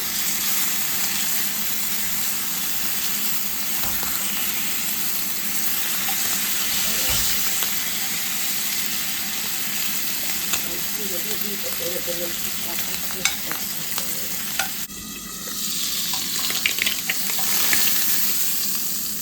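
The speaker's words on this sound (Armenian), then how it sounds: "հիմա տապակում եմ բեյկոնը" Bacon frying in a pan gives a steady, close sizzle that runs the whole time, with a few clinks and stirring sounds near the end.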